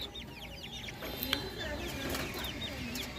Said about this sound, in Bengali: এখানে অল্প কিছু মুরগির বাচ্চা আছে